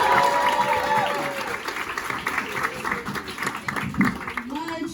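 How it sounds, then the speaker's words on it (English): A comedy club audience applauds a comedian taking the stage, with a dense wash of clapping and cheers that slowly thins while voices carry on over it. "Let's give it up for Katlin McFee!"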